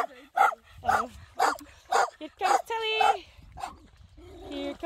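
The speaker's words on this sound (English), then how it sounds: "What are you barking? What are you? There's nobody to bark at." A dog barks repeatedly in a steady run of sharp, close, loud barks, ending with a higher whining yelp, while someone talks to it between barks.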